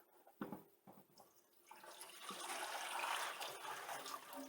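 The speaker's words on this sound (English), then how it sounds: "I suppose I should dump the water." Water splashes and gurgles as it is poured out of a humidifier, starting with a few short sloshes then becoming a steady, fairly loud stream close by.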